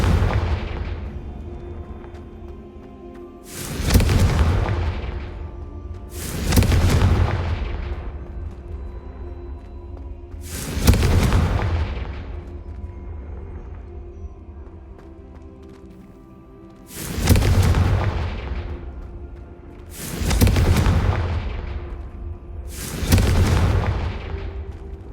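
Confringo fire spells explode one after another in Hogwarts Legacy: six sharp, booming blasts at uneven intervals, each bursting loud and then rumbling away, with a steady low hum beneath.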